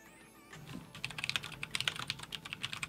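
Rapid, uneven clatter of keys on a computer keyboard, fairly close and steady, with no voices present.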